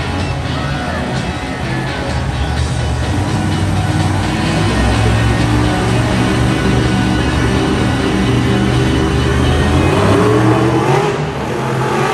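The Bad News Travels Fast monster truck roars loud and close at a Monster Jam show in an arena in Hartford, CT, its engine revving in a sustained, dense wall of noise that swells and falls slightly without a break.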